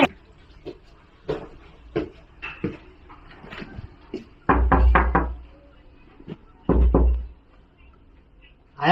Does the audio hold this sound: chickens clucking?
no